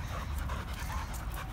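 A boxer dog panting rapidly and steadily at close range, quick rhythmic breaths over a rough, noisy background.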